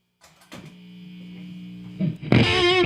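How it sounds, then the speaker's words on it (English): A sustained, buzzing distorted electric guitar note rings out, then a louder, gritty chord crashes in at the end. "now I'm going to put on some distortion and see how these sound"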